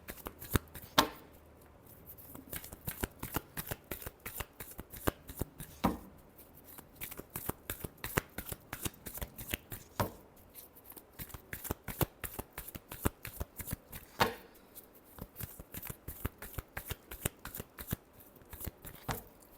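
A deck of tarot cards is shuffled by hand over and over, with quick papery riffles and soft slaps in a steady, busy rhythm, close and fairly quiet.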